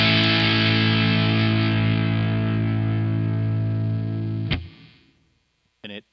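A guitar run through a Joyo OD300 overdrive pedal rings with a loud, buzzing distorted chord, then a noise reducer abruptly chokes the tail to silence before a brief final burst of sound.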